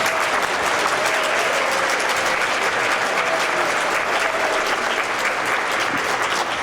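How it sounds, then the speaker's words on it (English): An audience at a young authors' award ceremony applauds the winners, with continuous, even clapping from a fairly large crowd heard close and loud throughout, without any speech over it. "Let's clap for all of them."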